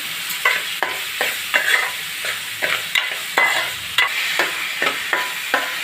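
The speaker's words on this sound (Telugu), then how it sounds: "ఉల్లిపాయలు బాగా మగ్గుతాయి, కొంచెం ఉప్పు వేసేస్తున్నానండి." Onions fry in a pan with a bright, steady sizzle, as a spoon stirs and scrapes them in quick, regular strokes close by.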